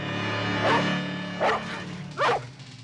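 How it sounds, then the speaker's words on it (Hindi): A dog barks three times, spaced apart, over a low steady background hum; the barks sound somewhat muffled and moderately close. "देखो, ये रॉकी के भौंकने की आवाज है"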